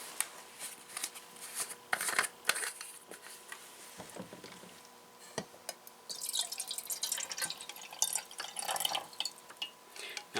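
Water is poured into a kettle at an alcohol stove setup, a light trickling and dripping that turns into a brisker, louder splashing stream toward the end, close and alone.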